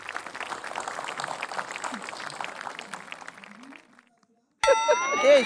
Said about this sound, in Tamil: எறும்பும் புறாவும் புது வகையான ஒரு கதையை சொன்ன நம்ம பிரணீத்துக்கு ஒரு பெரிய கைத்தட்டல் குத்தலாம்